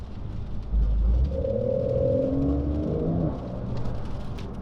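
A 2019 Porsche 911 (992) Carrera 4S engine rumbles and revs up through its filtered exhaust, the note rising and swelling before settling back to a steady low drone.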